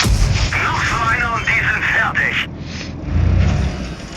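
Tank cannon fire in a tank combat video game, heavy booming shots and rumbling engine noise under continuous excited talk from a player.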